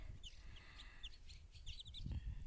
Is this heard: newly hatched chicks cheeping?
yes